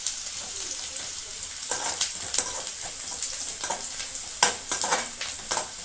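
Onions frying in oil for a ridge gourd curry give a steady close sizzle, broken by several louder scraping stirs in the pan.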